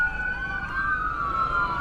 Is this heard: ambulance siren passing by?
yes